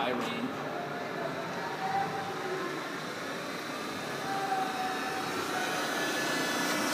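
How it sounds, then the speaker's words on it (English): A TRAK 3-axis CNC bed mill spindle runs with a steady broadband whir and faint tonal hum, constant and fairly close, with a person talking briefly in the background. "He's turning the spindle on."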